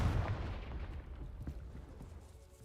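A Confringo blasting spell goes off in the video game Hogwarts Legacy, a dense low rumbling boom that opens loud and slowly fades over a couple of seconds, with no voices.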